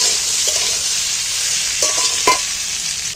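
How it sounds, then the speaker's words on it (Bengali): Amla fry in hot oil with cumin while being stirred, a loud, continuous hiss of sizzling close by, with a couple of brief clinks of the spoon against the pan. "এইবার আমি তেলের মধ্যে একটু ভেজে নেব, নাড়াচাড়া করতে করতে"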